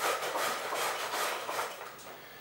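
A halved tomato is rubbed against a grater over a bowl, giving a steady, close, rasping scrape that keeps going with a soft pulsing rhythm. Nobody speaks.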